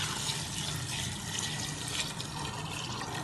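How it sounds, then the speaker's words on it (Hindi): Four glasses of water poured into a pressure cooker holding soaked red beans for rajma, heard as a steady, close rush of liquid with no talking. "इसको हम डालेंगे प्रेशर कुकर में और इसमें हम डालेंगे 4 गिलास पानी।"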